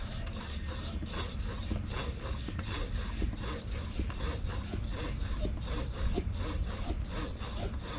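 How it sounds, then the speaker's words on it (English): A hand pump inflates a bicycle tire fitted with a homemade CushCore-style insert, giving a steady rhythm of repeated rasping strokes, close and moderately loud, with no talking. "let's see if I can actually pump this up with a hand pump"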